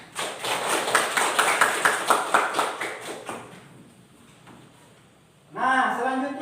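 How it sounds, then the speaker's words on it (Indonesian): A classroom of children claps together for a few seconds, a fairly close, rhythmic burst of applause that fades out before a teacher starts talking. "Yang lain boleh tepuk tangan."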